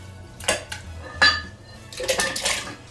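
Papaya pieces drop into a blender that already holds water, giving a few clattering knocks and splashes against the jar and a soft clink of utensils, all close by.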